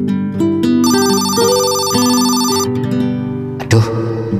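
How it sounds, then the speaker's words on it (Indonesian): A telephone plays a melodic electronic ringtone for an incoming call in an animated film, loud and close, with repeating tonal phrases over about four seconds and a brief thump near the end. "Aduh, kok ada telepon masuk sih?"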